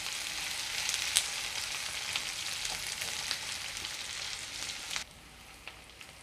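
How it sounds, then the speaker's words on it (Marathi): Onion, ginger and garlic sauté in a kadai with a steady, moderate sizzle and a few light scraping stirs; after about five seconds the frying noise drops noticeably quieter and softer. "आपला कांदा आलं लसूण परतून झालेलं आहे."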